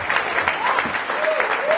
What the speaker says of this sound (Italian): Benedetto Velucci, un applauso, forza, porta i colori del circo nel mondo, grazie.